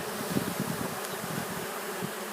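Honey bees buzzing steadily around an open hive, a dense close-up drone with a few louder passes near the listener, continuous for the whole moment and with no voices.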